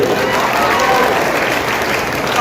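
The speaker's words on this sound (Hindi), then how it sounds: "ताली बजाकर स्वागत कीजिए" Dense applause from an audience at a political speech in Malegaon, many hands clapping at once in a loud, even wash with no gaps.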